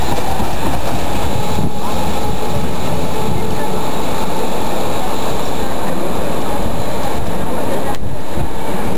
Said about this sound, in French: on y voit beaucoup de tramways.